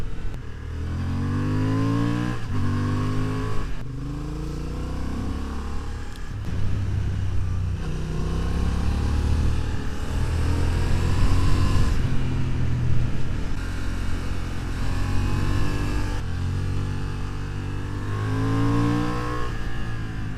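A 2025 Honda Hornet CB750 motorcycle being ridden, its engine revving and rising through gears in repeated accelerating sweeps, loud and close, with steady engine drone and road rumble between pulls and no talking.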